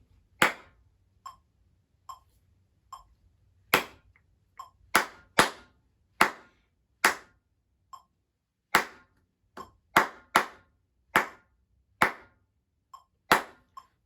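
Students in a classroom lesson clap out a counted rhythm together, sharp isolated claps in uneven patterned groups with soft accented and quiet taps between, crisp and close over near silence.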